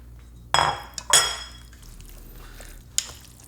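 Chicken wings being stirred in batter in a metal bowl, a few sharp utensil clinks and scrapes against the bowl with quieter wet mixing between them.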